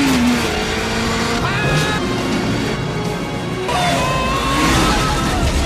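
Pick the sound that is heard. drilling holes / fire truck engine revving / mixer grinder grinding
fire truck engine revving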